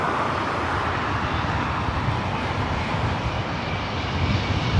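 An ITA Airways airliner rolls along runway 24 right at LAX with a steady, loud engine roar that stays broad and continuous, swelling slightly toward the end, with no voices.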